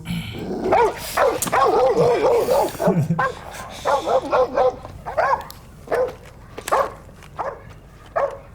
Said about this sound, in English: You gotta kill that dog.